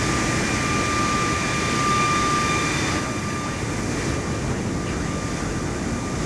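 Jet airliner engines spool up in Microsoft Flight Simulator 2024, a loud, steady roar and broad rush with a thin high whine riding on top that eases slightly partway through, with no voices.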